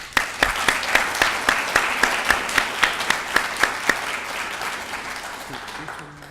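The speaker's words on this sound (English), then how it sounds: "Let's give them a round of applause." Graduates of a PTK and ASL honors ceremony at Barton CC Fort Riley receive loud, sustained applause from families, with rhythmic emphatic claps standing out as the clapping fades near the end.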